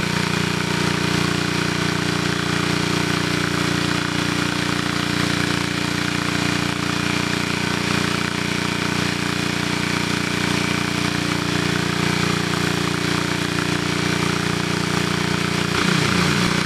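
An engine drives a machine with a shaking grate, a loud constant drone with steady mechanical rattle and hum that holds unchanged from start to finish, with no voices.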